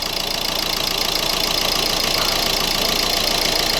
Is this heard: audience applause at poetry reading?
no